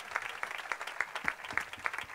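A town fair concert audience applauds, a fairly faint, steady patter of many hands clapping from a distance, continuous and without talk.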